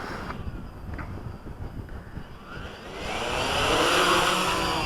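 A WLToys V303 Seeker quadcopter takes off in wind: rushing wind noise against the microphone gives way to a rising, steady motor whine that grows louder over the last two seconds, with no talking.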